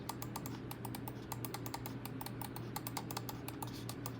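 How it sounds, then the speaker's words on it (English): Side buttons on a Corsair Sabre V2 Pro gaming mouse are clicked rapidly, a quick run of crisp close clicks over a faint steady hum, no voices. "These actually feel extremely tactile for me. Here's a click test."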